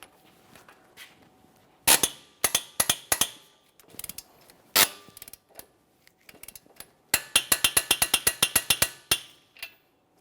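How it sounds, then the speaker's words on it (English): A torque wrench ratchets on the front strut bolts of a 2014-2018 Mazda 3, with a few sharp clicks followed by a quick, rapid run of ratcheting clicks, close and fairly quiet. "Got our torque wrench ready"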